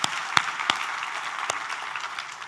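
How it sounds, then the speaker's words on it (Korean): Church congregation at a Korean worship service applauding in praise, a brisk wash of many hands clapping at moderate loudness, with a few sharper individual claps standing out. "우리 하나님께 감사와 영광의 박수를 드리겠습니다."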